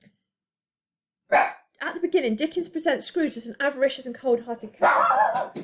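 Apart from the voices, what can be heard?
dog barking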